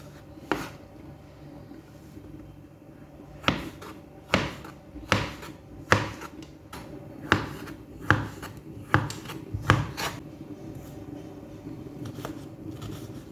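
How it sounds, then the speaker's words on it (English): A knife slices through a pepper on a cutting board, giving a series of sharp, crisp chopping knocks, about a dozen irregularly spaced strokes, close and clear against a quiet room. "I'm slicing my pepper."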